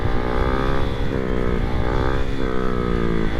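A motorcycle engine drones loud and close during a wheelie, its pitch sagging and surging in uneven waves as the revs drop off, with steady wind and road noise underneath.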